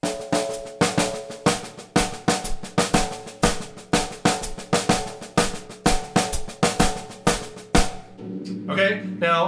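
A snare drum plays steady eighth-note triplets with accented strokes mixed in and no double strokes, a loud, even, driving rhythm that stops just before the end.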